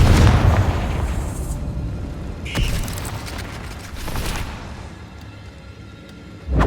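Blasting spell explosion in the Hogwarts Legacy video game, a heavy low boom at the start followed by rumbling debris and a couple of smaller crackling bursts, with a final thump at the end.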